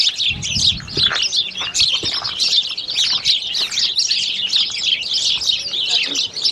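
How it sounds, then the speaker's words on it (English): A dense chorus of many birds chirping and tweeting nonstop, loud and close, with a few brief fluttering sounds early on. "Sounds like there are a lot of birds"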